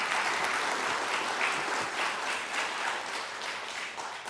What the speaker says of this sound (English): I have to work hard to get those applause.